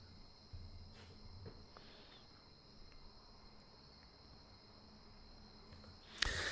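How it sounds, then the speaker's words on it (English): Cricket chirping runs as a continuous high, thin trill through the background of a live stream, steady and fairly faint, with a few small knocks and a louder rustle at the end. "I don't know how long the cricket noise is going to keep going on."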